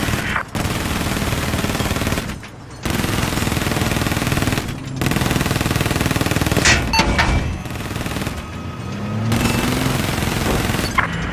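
Long bursts of rapid automatic machine gun fire from Call of Duty Black Ops 3 fill the clip loudly, broken by short gaps and mixed with explosions and game noise.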